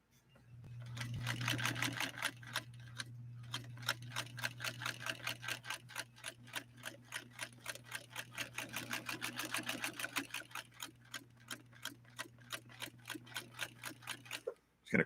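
A White Rotary sewing machine stitching leather runs steadily for about fifteen seconds, its rapid rhythmic needle clatter over a low motor hum, close and continuous before stopping abruptly at the end.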